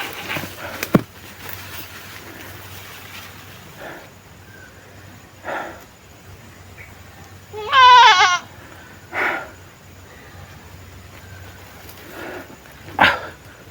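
A goat being offered in a ritual bleats once in a loud, wavering cry, standing out from scattered rustles and faint background sounds.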